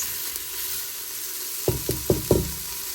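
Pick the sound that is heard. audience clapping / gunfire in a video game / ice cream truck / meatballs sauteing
meatballs sauteing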